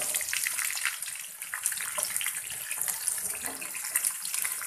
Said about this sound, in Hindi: चार रेड चिली इसको हम थोड़ा सा फ्राई करेंगे अब हम इसमें प्याज डाल देंगे